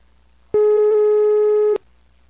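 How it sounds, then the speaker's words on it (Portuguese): A single steady telephone ringing tone on an outgoing call, one continuous electronic beep lasting just over a second, loud and clean with nothing else around it. "Eu vou ligar agora pra Maluce."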